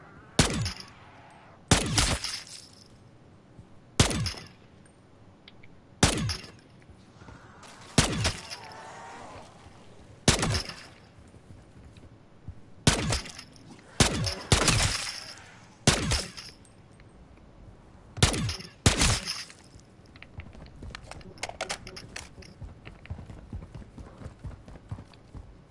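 Marksman rifle shots in Call of Duty ring out one at a time, about a dozen sharp loud cracks spread at irregular intervals, each trailing a short echoing tail over quiet ambience.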